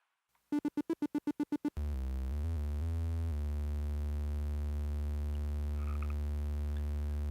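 A sustained sawtooth-wave synthesizer tone from a Korg DS-10 on a Nintendo DS, buzzy and harmonic-rich, drones steadily after a quick run of short pulsing notes, loud and continuous.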